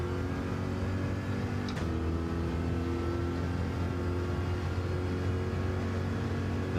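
Race car engine in Gran Turismo 7 holds a steady loud drone throughout, with a brief sharp blip near the start suggesting a gear change, then continuing to pull hard without talk.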